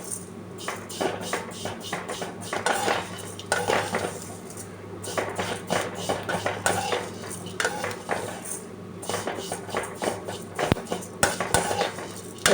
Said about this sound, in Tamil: ரொம்ப செவக்க வறுத்துக்கணும் அவசியம் இல்லை, கொஞ்சம் லைட்டாக செவந்துக்கிட்டால் போதும்.